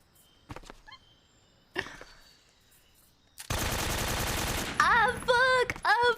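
AK-47 fire in Metal Gear Solid 3 breaks out as a dense, sustained automatic burst after a few scattered sharp shots, followed by choppy bursts mixed with game sounds.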